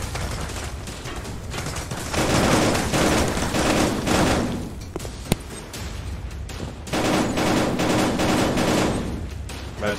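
Rapid gunfire rattles in a VR video game, loud bursts of automatic fire in two main stretches separated by a short lull with a single sharp shot.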